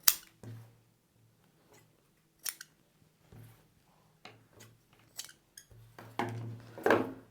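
Scissors cutting blouse lining fabric: a run of crisp metallic snips, irregular and close, with quiet gaps between cuts and a faint low hum under several of them.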